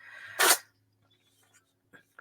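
One sharp, loud sneeze bursts out close by, followed by near silence with a few faint small sounds.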